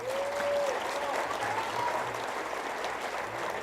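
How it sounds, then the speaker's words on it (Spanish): Audience applause at a book fair event in Guadalajara, a sustained crowd of clapping with a few whistles and cheers on top, steady and fairly loud throughout. "Un aplauso para Pepe,"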